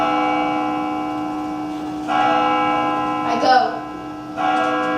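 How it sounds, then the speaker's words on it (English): A tolling church bell used as a sound effect in a Macbeth audio play, one loud, sustained ringing stroke with a long resonant decay, followed by further strikes. "The bell invites me. Hear it not, Duncan, for it is a knell."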